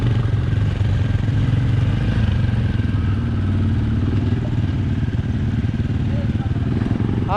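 An ATV engine rumbles loud and close throughout an off-road ride in Krabi, Thailand, a steady mid-pitched drone with clattering from rough ground and no pauses.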